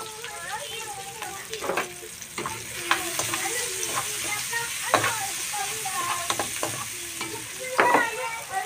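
Onion and ginger sizzling in a pan for chicken biryani, a steady low fry broken by sharp scrapes and knocks of a utensil stirring, with a voice speaking intermittently over it.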